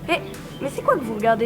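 A sick dog gives short whimpering yips and barks, mixed with a French-speaking voice, in brief close bursts.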